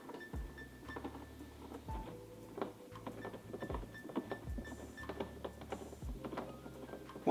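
T30 Torx bolts come loose from a Tesla Model Y or Model 3 interior panel, giving a series of small, close metallic clicks and squeaks over a faint background hum.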